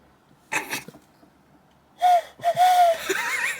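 Two short breathy blows, then a hollow hooting whistle made by cupped hands imitating a wood pigeon, rising into a longer airy coo with some breath noise.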